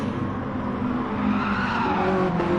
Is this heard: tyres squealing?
yes